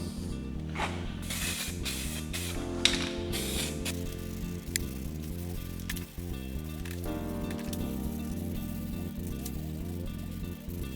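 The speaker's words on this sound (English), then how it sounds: "So now start with some etch primer." Short bursts of etch primer spray from an aerosol can hiss onto a Mazda MX5 NB rocker cover in the first few seconds. A steady tonal background continues underneath and carries on after the spraying stops.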